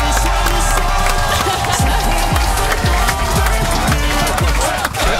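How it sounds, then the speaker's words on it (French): A studio audience on an NRJ radio show applauds and cheers as a guest arrives, a loud continuous wash of clapping and crowd noise with a low thumping rhythm beneath. "Est-ce qu'on peut l'applaudir?"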